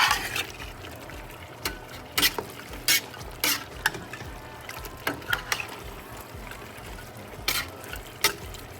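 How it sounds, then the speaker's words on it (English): Curry spare ribs frying and being stirred in a pan, a steady sizzle with repeated scraping stirs and clacks of the utensil at irregular intervals, close and moderately loud, no talking. "when the sound of that sizzling is the sound of cooking of good food"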